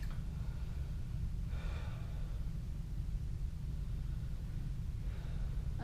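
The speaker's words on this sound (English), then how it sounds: "So take a few deep breaths for me, please." A patient takes deep breaths during a medical exam, with slow inhales and exhales roughly every few seconds over a constant low hum, and nobody speaking.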